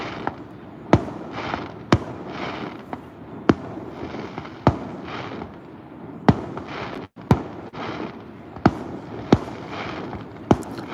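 Fireworks explode at a distance in the night, about a dozen sharp booms at irregular intervals of roughly a second, each followed by a crackling rumble that fades out.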